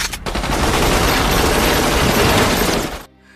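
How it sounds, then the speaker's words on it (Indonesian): In an action film about the Russian mafia, automatic gunfire sprays from a car in one loud, rapid, sustained burst of about three seconds that cuts off abruptly. "tiba-tiba Haris dihadang oleh satu mobil yang langsung memberondong Haris dengan tembakan"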